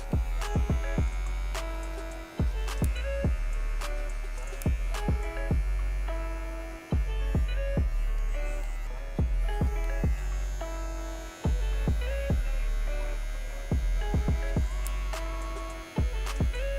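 An electric hair clipper with its guard fully closed hums steadily while cutting a fade, its buzz briefly dropping out and restarting in short regular breaks as strokes are made.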